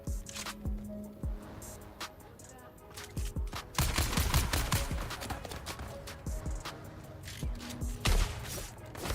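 Rapid bursts of spit dart weapon fire in the video game Dune Awakening, sharp repeated shots clustering densely in the middle with scattered impacts before and after, loud and close.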